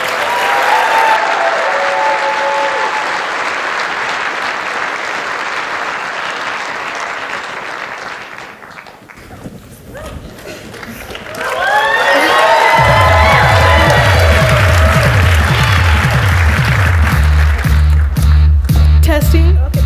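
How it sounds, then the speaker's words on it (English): A crowd at the CU Boulder New Venture Challenge championships bursts into loud applause and whooping cheers for the Beauty Book pitch team, sustained for several seconds before fading, then rising again with shouts over a thumping bass beat. "give them a huge round of applause, guys"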